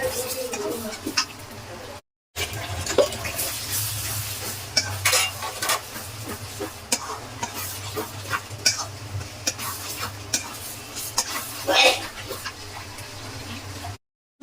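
Tomato and spices are stirred and fried in a pan for a fish curry, giving a bubbling sizzle under repeated scraping and tapping of a spoon, with a brief dropout early on.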